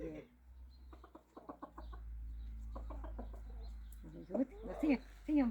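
Several clucks from a hen ring out close by on a farm, short repeated bursts that grow louder toward the end, with quiet voices talking in between and a low steady hum underneath.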